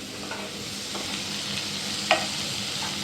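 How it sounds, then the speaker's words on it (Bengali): Chopped onions frying in oil after cardamom and cinnamon, a soft continuous sizzle with light stirring and a brief clink partway through. "পেঁয়াজগুলো এখন লাল লাল করে ভাজবো"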